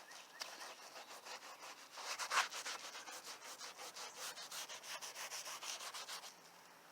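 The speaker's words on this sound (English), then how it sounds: "I'm using the soft blue side just to wipe some of this stuff off so I can check it out" A soft blue sponge is rubbed back and forth over a dirty cloth armrest, producing a faint, steady, close scrubbing rhythm that repeats quickly throughout.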